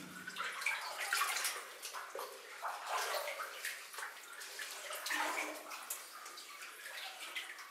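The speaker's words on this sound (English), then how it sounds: "I keep trying to show you some of the rails, but I'm disturbing the water too much" Someone wades through water inside an old gold mine tunnel, producing soft sloshing, splashing and dripping sounds that echo faintly at low volume.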